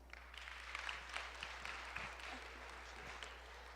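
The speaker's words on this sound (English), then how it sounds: "Let's give Stephanie another big round of applause" Audience clapping at a live event in a middle school, a faint, steady wash of hands with no voices over it and a low hum beneath.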